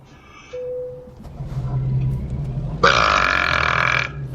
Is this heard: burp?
yes